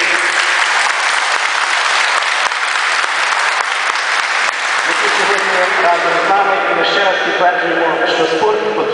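Sustained audience applause at the opening ceremony of a table tennis tournament, a dense steady clapping that fills the room and carries on throughout, with some voices mixing in toward the end.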